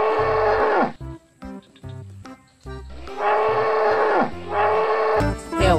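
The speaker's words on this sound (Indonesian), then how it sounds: "kerbau nih, teman-teman." A water buffalo in a video game moos in long, loud, deep calls, three or four drawn-out bellows separated by short pauses.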